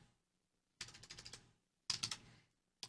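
Typing on a home computer keyboard in two quick bursts of keystrokes, close and moderately soft, separated by pauses with no talking.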